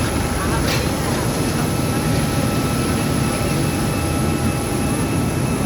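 A large airplane's engines roar steadily at an airport, a loud continuous drone that does not let up, with voices faintly mixed in.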